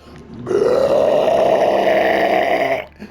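A voice imitates a massive, full-on belch: one loud, sustained guttural burp rising in pitch and held for over two seconds, close and alone before cutting off.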